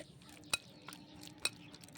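Roasted raw tamarind mash being worked together with mustard oil, soft squelchy stirring with two sharp clinks of a utensil against the bowl, close and quiet.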